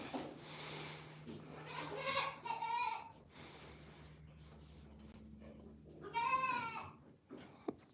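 Dairy goat kids bleat in short wavering calls, a few overlapping near the start and another clear cry later, close by over a low steady hum in a barn.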